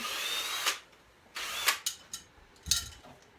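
Power drill with a 1/8 inch bit drilling out rivets on an Airstream trailer; three short, close, loud whirring bursts with pauses between, each ending in a bite and grind as the bit breaks through.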